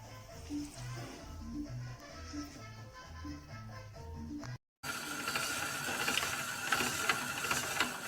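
A CucinaPro stainless steel pasta maker clicks and rattles as it is cranked through dough and cuts noodles, a steady mechanical ratcheting, close and fairly quiet, with a brief break partway through.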